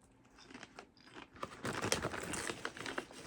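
Crinkling of a snack bag followed by close, crisp crunching and chewing of light sour cream and onion chips, growing louder and busier toward the end.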